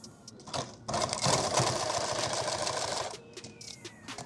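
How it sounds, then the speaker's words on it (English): A sewing machine stitches a magazine war bag in a fast, even mechanical whir lasting about two seconds, framed by short start-and-stop bursts, close and fairly loud with no speech. "Let's sew from this side."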